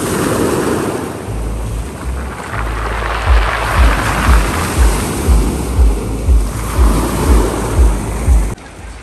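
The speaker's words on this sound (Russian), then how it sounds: "Какая-то волна прям поднялась. Вроде никто не проехал. Резко так." Sea waves at Lazarevskoye on the Black Sea coast surge onto the shore in a loud, regular series of heavy rushing breaks with deep low thumps, under steady wind noise on the microphone.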